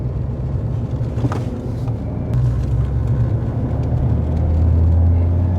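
A car rumbles steadily from inside the cabin while being driven, the engine note shifting and building toward the end around a change into second gear, with no talking.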